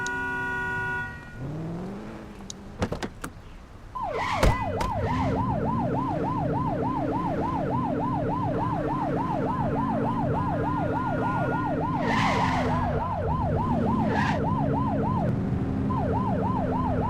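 A police car siren in The Precinct video game wails in a rapid, steady yelp cycle over engine rumble and traffic, loud and continuous with a brief break near the end, preceded by a horn-like burst.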